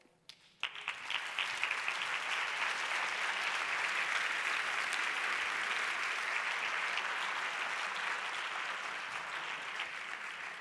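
Sustained applause from a large audience at an event on women's progress, starting abruptly after a short quiet moment and holding as a steady, dense roar of many clapping hands.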